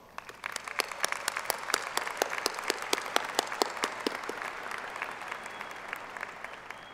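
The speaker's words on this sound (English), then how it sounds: "will the faculty and graduates please join me in a round of applause" Audience at a West Virginia University commencement giving a round of applause, a dense, even clapping from many hands that rises quickly and carries on steadily, fading slightly toward the end, with no speech over it.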